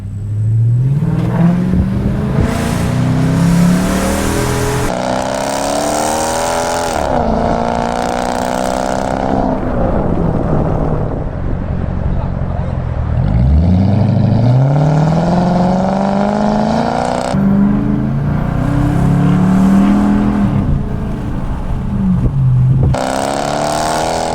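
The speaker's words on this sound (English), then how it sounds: "Now the fun part, let's go take it out on a drive." A custom V8-powered Chrysler 300 with a new exhaust, out on a drive: a loud, continuous engine note that rises and falls through repeated revs and gear changes, close and unbroken, with no talking.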